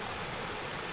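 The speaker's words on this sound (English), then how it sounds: "river is coming down from the cave" A river pours steadily out of a cave on a hiking trail, a dense, continuous rush of flowing water close by with no voices over it.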